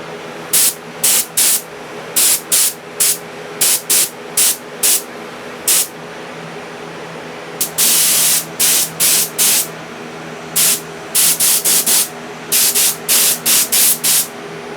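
Aerosol can spraying a chrome coat onto a full-size Alien flamethrower prop, in short repeated hissing bursts of about a second each with brief pauses between, close and fairly loud, with no talking.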